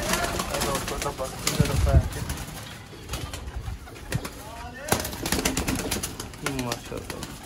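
Sialkoti pigeons coo in repeated soft rolling calls, mixed with brief wing flaps and clatter close by, while someone talks over the birds.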